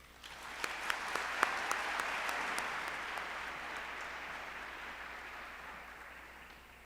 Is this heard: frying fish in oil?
no